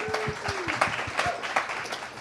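An audience at a student team presentation claps in a scattered, moderate round of applause, with voices murmuring underneath.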